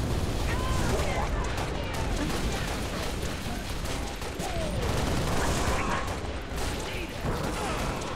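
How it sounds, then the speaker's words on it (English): Grenades burst in the sci-fi shooter Halo Reach amid a dense, continuous barrage of gunfire and explosions, loud and chaotic throughout with no pause in the battle noise. "I'm throwing grenades, just so you know."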